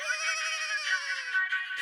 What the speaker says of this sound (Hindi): अरे मेहता साहब का ही फोन